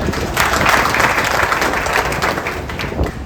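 A crowd at an event claps together in a dense, steady burst of applause that stays loud through the short stretch and barely tails off.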